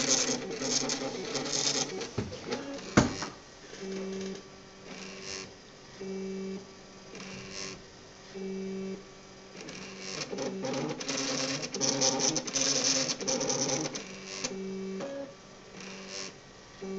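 A 3D printer at work on plastic parts, giving a mechanical whirring with repeated short tonal stepper-motor bursts that start and stop in an even rhythm, close and moderately loud, with no talk.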